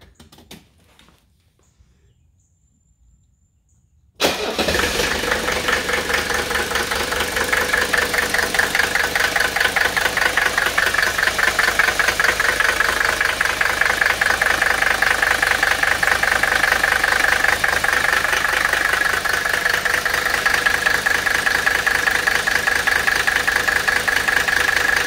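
A Mercedes 300TD diesel engine with injection timing set to 26 degrees BTDC cranks after a few quiet seconds, then settles into a loud, steady idle with a rapid rhythmic diesel clatter that runs for the rest of the clip.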